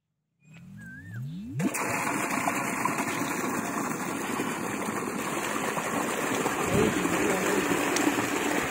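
Electric motor pump at a farm well, starting with a brief rising whine and then settling into a steady, loud droning hum with water rushing beneath it.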